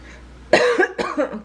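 A person at home gives two sharp, close coughs in quick succession, each burst harsh and throaty with a brief pause between.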